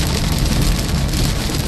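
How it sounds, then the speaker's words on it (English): Heavy rain pours down during a flash flooding storm in southern Iowa, making a dense, steady wash of noise that stays loud and unbroken for a brief stretch, with no voices. "Heavier rain out this way"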